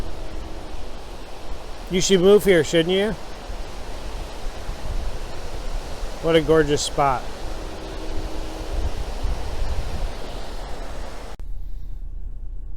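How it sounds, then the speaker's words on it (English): Waves lap on the shore at Cumberland Head near Plattsburgh, New York, making a steady, soft, broadband wash that runs throughout while a person speaks briefly over it twice. "The sound of the waves"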